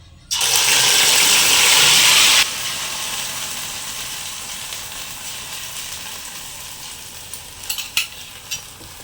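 An herbal hair remedy mixture is poured into hot oil over a flame and sets off a loud burst of sizzling, which eases after a couple of seconds into a steady crackle with a few faint clinks.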